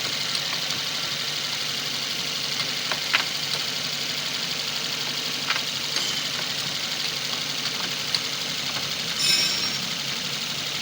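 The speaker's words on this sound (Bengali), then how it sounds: "চলুন কাস্টমারকে দিয়ে গাড়ি স্টার্ট করি, আমরা চেক করবো এবং তারপর টেস্ট ড্রাইভে বেরোবো" A Suzuki Swift engine idles at close range with a steady, slightly knocking hum while the gears are worked, broken by a few faint clicks and clunks.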